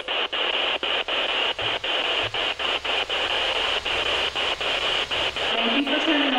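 Hissing radio static during a ghost hunt, steady loud noise broken by regular brief dropouts like a scanning sweep, with a faint voice rising near the end.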